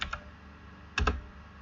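A handful of soft keystrokes on a computer keyboard while a MySQL login command is entered, heard as two quick clicks, a pause, then another close pair, quiet and alone.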